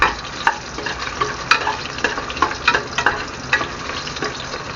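Beef tripe sautéing in a pan for balbacua, a loud steady sizzle and fry with frequent scraping stirs and clinks of a utensil, close up and without talk.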